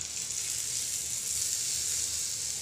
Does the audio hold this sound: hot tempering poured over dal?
yes